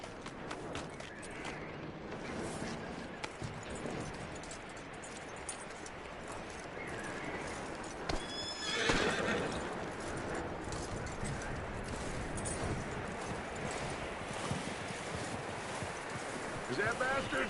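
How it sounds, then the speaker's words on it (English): Horse hooves clip-clopping in Red Dead Redemption, a steady rhythmic trot with creaking tack and occasional snorts, heard under ongoing game dialogue and background ambience. "That looks like a decent horse."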